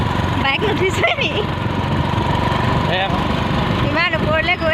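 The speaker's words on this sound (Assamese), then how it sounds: "ইমান ওপৰলৈ গৈ আছোঁ আমি বাইকে" A motorbike climbing a steep hill road through hilly, wooded country, its engine a steady, loud, buzzing drone that stays close and continuous, with a voice faintly audible over it.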